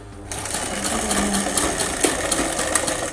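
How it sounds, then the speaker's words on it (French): A domestic sewing machine is coaxed into starting by turning its handwheel, then runs with a continuous mechanical whirr and rapid needle clatter, close and fairly loud, with a few sharper clicks near the end. "mon volant pour aider la machine à coudre"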